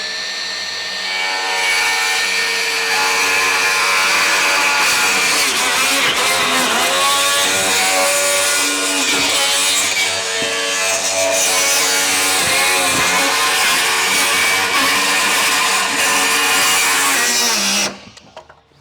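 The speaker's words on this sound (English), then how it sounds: "Never used a circular saw to cut one of those before." A circular saw cuts through a plastic IBC tote with a loud, continuous whining roar for about sixteen seconds, then winds down and stops abruptly at the end.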